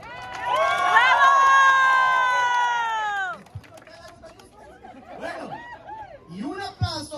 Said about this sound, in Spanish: Un aplauso otra vez para la número uno. ¡Bravo!